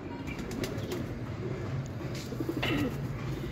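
Teddy golden pigeons in a loft, a group of thirteen birds, cooing softly and steadily with occasional wing flaps, close by over a low background hum.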